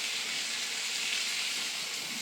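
Peppers fry in a wok with a steady, close hiss and sizzle that holds evenly throughout, with no talk over it.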